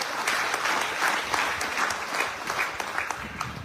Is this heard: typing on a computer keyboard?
no